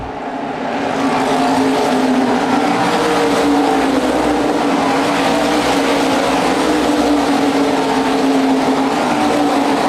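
Modified race cars at a 2010 USA Modifieds race on the oval at ORP in Indianapolis battle side by side, giving a loud, continuous roar of engines that holds steady throughout.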